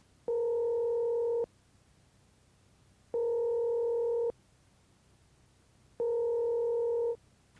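Three identical electronic telephone tones sound in an even rhythm, each lasting about a second with equal gaps between them, clear and moderately quiet over a faint hiss, with no voices.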